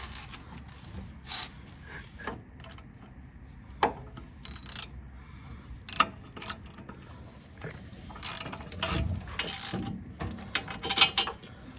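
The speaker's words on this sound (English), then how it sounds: "So I got the front tightened down, and now I'm going to get the rear." A ratchet clicks in short bursts while tightening the rear skid plate bolts on a Toyota or Lexus, with metallic rattles and pauses between strokes, close and fairly quiet.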